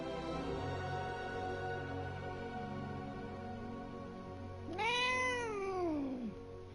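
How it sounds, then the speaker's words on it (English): In the video game Hogwarts Legacy, a cat gives a single clear rising-then-falling meow near the end, over a steady, faint background hum of game ambience. "Hello there, kitty."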